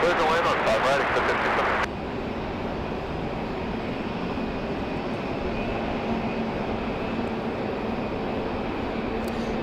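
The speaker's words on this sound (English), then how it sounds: "4808 coming in from Chicago Midway, landing over on 5 right" A Southwest airliner from Chicago Midway lands on runway 5 right at Raleigh-Durham on a rainy day, its distant engine roar steady and broad, with a louder nearby noise in the opening seconds.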